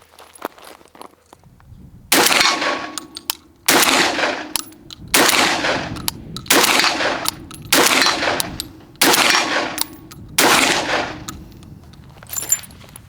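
Benelli M4 semi-automatic shotgun firing Troy slugs outdoors: seven loud, sharp blasts spaced roughly a second and a half apart, each with a brief ringing decay, alone without talk.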